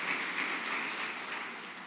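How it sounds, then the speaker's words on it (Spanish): A church congregation applauds together, a dense, even patter of many hands clapping that stays steady and moderately loud throughout, without speech. "Dale un aplauso al Señor."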